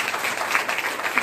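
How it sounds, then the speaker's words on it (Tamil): Audience applause at a Women's Day celebration, a dense, steady patter of many hands clapping throughout, fairly loud and with no voices over it. "அப்புறம் சாருஹாசினி, ரிஃபா, இவங்க எல்லாருக்கும் உங்களோட சிறந்த கைத்தட்டல்களை வழங்குமாறு கேட்டுக்கொள்கிறேன்."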